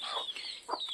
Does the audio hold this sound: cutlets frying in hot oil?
no